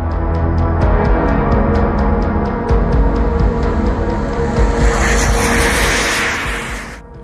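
A U.S. Air Force F-15 Eagle fighter jet holds at its takeoff position with the engine running, a loud, steady roar and whine with a rhythmic high pulsing that swells into a broader rushing hiss near the end.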